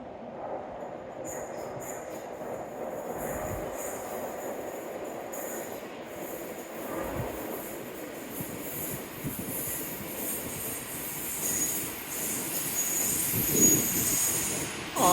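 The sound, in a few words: train arriving at station, wheels squealing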